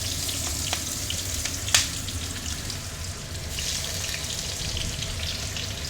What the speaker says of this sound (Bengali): এখন পেঁয়াজ কুচি দিয়ে দিব তেলের মধ্যে